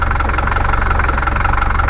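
Inboard engine of a Bavaria 38 sailboat running steadily, a close, even mechanical thrum with a regular low knock and vibration, unchanging throughout with no voices.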